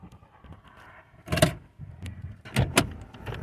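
A Toyota RAV4 door swings open as the driver climbs out on a Saskatchewan roadside, with two close mechanical clunks about a second apart over quiet idle background.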